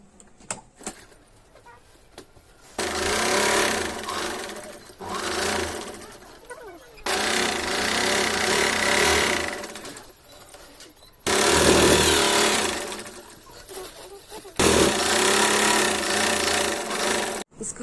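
A sewing machine runs in several long bursts, stitching a lehenga's lining onto the main fabric, loud and close, with short pauses between runs and faint handling noises in the gaps.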